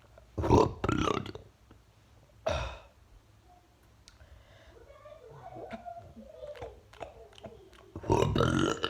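A person burps during a burping challenge, a few loud, low bursts standing out between quieter stretches with faint background sounds and other voices.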